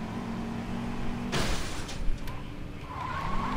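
A car skids with a sharp tire squeal in the Saints Row 2 open-world game, a short burst of scraping noise over a steady engine hum, with no talking.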